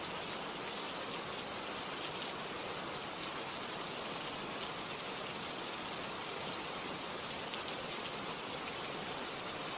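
Steady rain falling on a surface, a dense, even, continuous hiss of drops that stays at constant level throughout with no talk.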